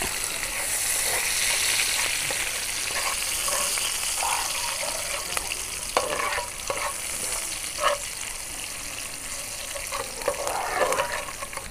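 Garlic, ginger, curry leaves and green chilies fry in hot oil for tilapia pollichathu, with a steady close sizzle and occasional stirring scrapes throughout.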